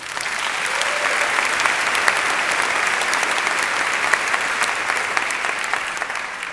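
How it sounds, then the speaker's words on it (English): Sustained applause from a large audience at a city's State of the City address in Long Beach, California, steady and dense clapping filling the hall for several seconds. "that deserves a round of applause"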